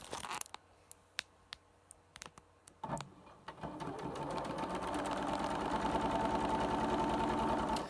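A sewing machine stitching a quilt block, preceded by sharp intermittent clicks and taps, then a steady rhythmic whirring hum that builds and runs continuously at moderate loudness.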